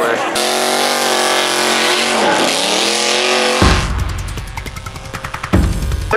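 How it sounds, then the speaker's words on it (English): A truck doing donuts runs a revving engine that rises, dips and climbs in pitch, then tires squeal and skid with rhythmic bursts, loud and close, with voices mixed in. "every time he does a donut with that truck, the tailgate comes off"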